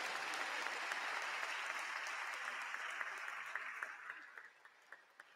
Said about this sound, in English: Please don't let the applause die down